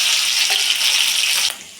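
Green chillies frying in hot oil in a kadhai, a loud, steady, close sizzle that runs without a break and eases off slightly near the end.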